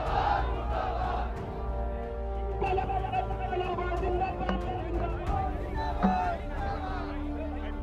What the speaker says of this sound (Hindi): की जामा मस्जिद की सीढ़ियों से शुक्रवार को पाकिस्तान के खिलाफ जमकर नारेबाजी हुई।